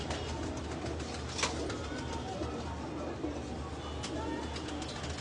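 A pigeon coos in low, soft repeated calls, faint within a steady background hiss.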